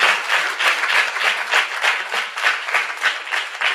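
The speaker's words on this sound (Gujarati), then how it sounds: "તાળીથી તો વધાવો આપણે આ મુક્તોને." Audience at a Swaminarayan religious discourse breaking into applause, a loud sustained burst of many hands clapping in a lively, slightly pulsing rhythm.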